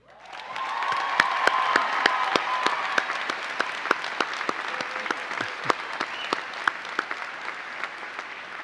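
A dental school commencement audience bursts into applause, a dense roll of many clapping hands rising quickly and holding steady, with a few sharp louder claps standing out near the microphone.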